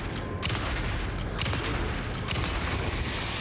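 Shotgun blasts in the horror video game Alan Wake 2: three or so heavy booming shots spaced about a second apart over a dense, noisy game background.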